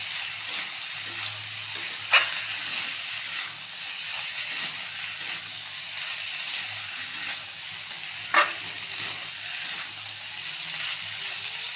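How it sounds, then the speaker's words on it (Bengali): Egg pasta sizzles steadily in a frying pan, a continuous close hiss broken by two sharp clinks of a utensil against the pan, with no talking. "এটা একটু ভালো করে ফ্রাই করতে হবে"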